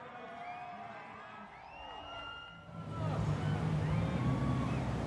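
Crowd at the Miami Grand Prix, a distant roar of cheering that swells and holds steady in the second half, with whistles and tonal calls over it earlier.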